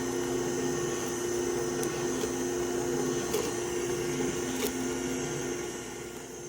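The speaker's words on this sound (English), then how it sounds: "Here I'm just continuing to juice the spinach." A Nama J2 juicer juicing spinach, a loud, steady motor hum and whir with a constant drone, with faint crackles of leaves being pressed that ease slightly toward the end.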